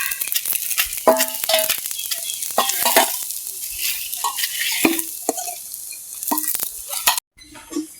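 Banana flower fritters frying in oil in a village kitchen; a bright, hissing sizzle with frequent clinks and scrapes of a utensil against the pan, then a sudden drop to quieter frying near the end.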